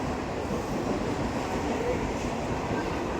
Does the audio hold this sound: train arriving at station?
yes